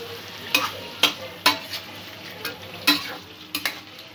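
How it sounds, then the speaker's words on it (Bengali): Potatoes sautéing with cashew paste in a pan, a low sizzle broken by a series of sharp, close spatula scrapes and knocks at irregular intervals, no talking. "দু এক মিনিট একটু কাজু বাটার সঙ্গে আলুটা কষিয়ে নেব।"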